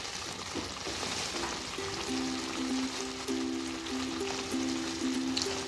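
Chana dal and eggplant frying in ghee, with a steady close sizzle and crackle and faint stirring scrapes, continuous throughout with no talking.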